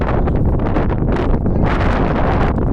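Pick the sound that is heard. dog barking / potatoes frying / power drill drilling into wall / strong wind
strong wind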